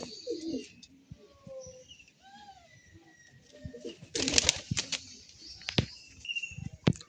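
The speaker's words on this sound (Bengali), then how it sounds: "তো এই হচ্ছে পায়রা" Madrasi highflyer pigeons coo in soft low bursts inside a loft, with scattered chirps, faint wing flaps and a louder rustle midway, fairly close with quiet gaps between calls.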